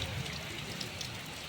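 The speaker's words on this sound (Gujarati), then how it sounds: "ખતરનાક વરસાદ આવી" Heavy rain pours down in a steady, dense hiss of falling water, fairly quiet and unbroken, with no voices.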